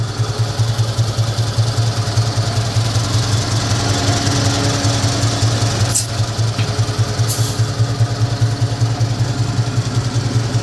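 A Mitsubishi 4G32 engine idles with a cut exhaust, giving a steady, loud, close throbbing rumble that runs unbroken throughout with no voices.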